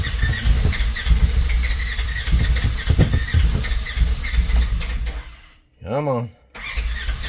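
A fuel-injected General XP cranks over on a cold start, making a loud, continuous churning sound. A voice speaks briefly during a short pause in the cranking.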